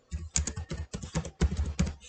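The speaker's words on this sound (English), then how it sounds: "and I type my address" Someone types an address into a Microsoft Word document on a computer keyboard, a close run of quick keystroke clatter in uneven bursts over about two seconds.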